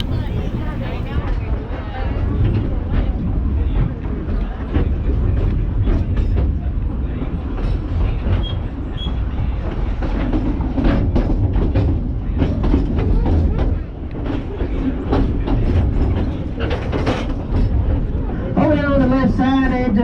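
A steam train, Engine 192 of the Dollywood Express, rumbles and clatters along at a steady pace, wheels clacking on the rails, while people talk over the noise.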